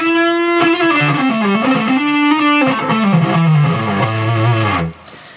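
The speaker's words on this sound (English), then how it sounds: "Kind of a fuzzy drive sound." Electric guitar played through a Bob Burt Great T Distortion pedal, giving a thick, fuzzy overdriven tone; a sustained chord followed by a descending run of notes, loud and close, ending abruptly near the end.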